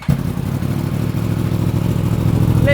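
A 2018 Yamaha R1M fitted with an Akrapovic Evo Line titanium exhaust runs with a deep, steady, throbbing engine rumble, loud and close with no talking.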